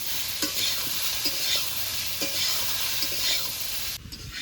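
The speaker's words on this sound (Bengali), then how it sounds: "এবার কচুটাকে ভালো করে কষিয়ে নেবো" Small taro pieces stir-fried with salt and turmeric for a rohu fish curry, a steady sizzle broken by a few spoon scrapes against the pan, then quieting near the end.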